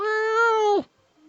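A voice imitates a mountain cat's bell-like, questioning cry: one sustained, tuneful meow-like tone lasting under a second, then cut off into silence.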